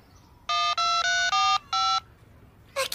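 Mobile phone keypad tones while a text message is typed: five steady electronic beeps in quick succession, the last separated by a short gap, followed by a brief burst of a different sound at the end.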